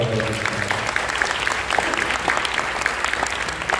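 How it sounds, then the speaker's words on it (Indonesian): An audience applauds for BCA at a talk by Armand Hartono on wealth, a dense, continuous round of clapping that stays steady at moderate loudness from start to finish. "Tepuk tangan buat BCA."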